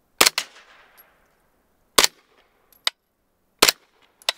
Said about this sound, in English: a lot of that noise is that bolt just clacking around in there